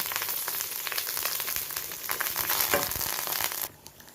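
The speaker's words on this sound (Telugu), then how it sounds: "ఎండుమిరపకాయలు, కరివేపాకు ఇవన్నీ ఒకసారి వేసుకుని వేయించేసుకుందాం." Urad dal, dried red chillies and curry leaves fry together in hot oil for a tempering, making a dense, even crackling sizzle up close that drops away sharply just before the end.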